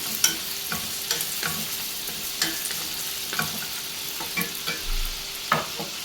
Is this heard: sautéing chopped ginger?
yes